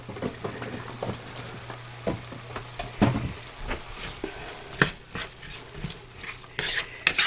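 Onions cooking in a pan for a simple meal of canned ground beef, canned potatoes and corn, with faint sizzling under repeated scraping and stirring clicks of a utensil against the pan, close and fairly quiet.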